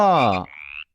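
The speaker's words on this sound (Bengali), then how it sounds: "ব্যাং" One short, loud croak-like call, close by, trailing off into a thinner tone before stopping abruptly.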